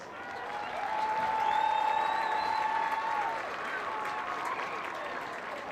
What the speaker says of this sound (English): Fans, please join me in saying thank you with a round of applause